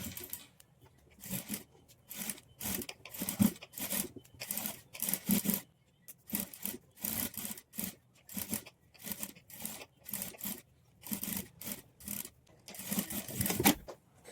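A sewing machine stitching a hem beside piping runs in short repeated bursts separated by brief pauses, a quiet, even mechanical whirr that starts and stops throughout.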